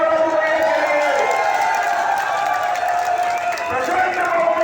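A large crowd at a political rally in Kasganj claps and cheers continuously, a dense loud roar with whoops and shouting voices mixed in.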